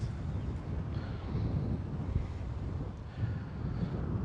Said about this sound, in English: By the way, it's windy here a lot.